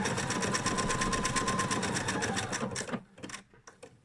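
A sewing machine stitches around a fabric felt heart, a fast, even mechanical whirring rattle at close range that stops abruptly near the end, followed by a few light clicks.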